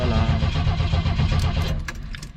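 An old Coachman vehicle engine cranking and catching, a loud close rumbling turnover with uneven pulses that eases slightly toward the end, with faint clicks over it.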